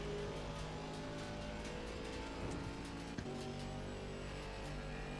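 GT4 race car engine in Assetto Corsa Competizione at Bathurst, a steady droning engine note with shifting pitch, held continuously and fairly loud with no talk over it.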